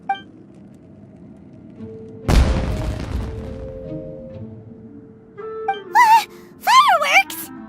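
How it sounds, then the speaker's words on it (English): A single loud burst of fireworks goes off as a distraction, a sharp boom followed by a fading crackling tail, with exclaiming voices breaking in afterward. "It sounded like fireworks."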